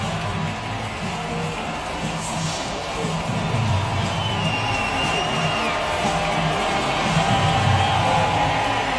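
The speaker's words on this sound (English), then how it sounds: "Javon Curse getting the crowd fired up here." A stadium crowd at an NFL game against the Texans roars and cheers, swelling louder partway through, with scattered whoops and a broadcast voice faintly under the din.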